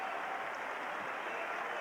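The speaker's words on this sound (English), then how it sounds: "even the Iowa State fans are giving Dusty Wadlington a big round of applause as he leaves this game" Iowa State basketball crowd applauding a departing Morningside College player, Dusty Wadlington, in an arena: steady, dense clapping that holds evenly for the whole moment, moderately loud and continuous.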